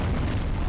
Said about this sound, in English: those explosions are killer